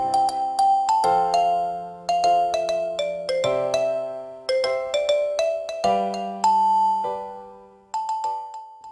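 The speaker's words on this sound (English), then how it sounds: "The bell rang just then, and the trio returned to their class in the mysterious school." A school bell rings as a melodic chime, a series of clear, ringing tones in repeated phrases, loud and close, each note decaying slowly, with no talking.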